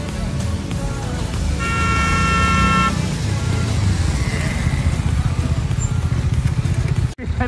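KTM Duke motorcycles race along a road with loud, continuous engine roar, while a horn honks briefly in the background and the noise cuts off sharply near the end.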